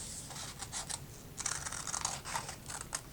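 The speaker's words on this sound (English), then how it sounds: "I am just using my scissors and just taking a long snip" Large scissors make a series of quick, close, crisp snips and slides while cutting a long paper frame for card making. The sound is fairly quiet, and no one talks.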